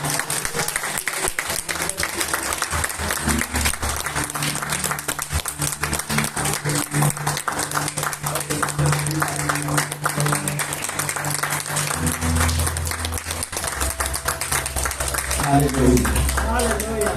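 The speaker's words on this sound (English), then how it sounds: "Let us all clap." A church audience claps steadily through a pastor's ordination service while low music or organ tones sound underneath, the applause continuing for the full stretch.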